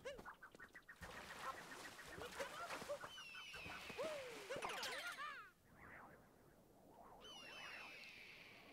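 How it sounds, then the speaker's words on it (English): Honking, squawking bird calls from the Super Mario Odyssey video game repeat in bursts over game sounds, loud and close, then trail off into softer cries. "I don't like that bird noise."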